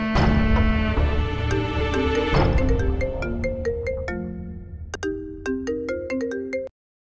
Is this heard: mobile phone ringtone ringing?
yes